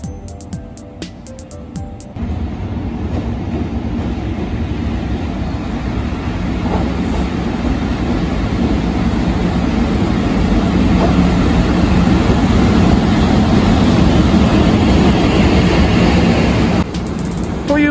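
A heavy train with an electric locomotive on Japan's Tohoku Main Line rumbles close by with a steady low roar and faint clacking, easing along as it slows to a stop, after a brief quieter start.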